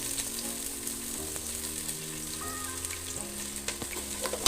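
Onions sizzling in hot oil in a pan while cooking egg biryani, a steady close-up frying crackle with faint clinks, no talking.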